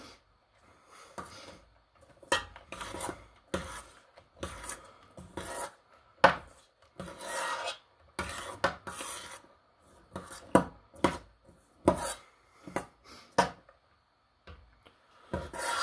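Spoon scraping and folding a Cookie Monster ice cream mixture in a bowl, heard as repeated close rasping strokes in an irregular rhythm with short pauses between passes, fairly quiet and with no talking.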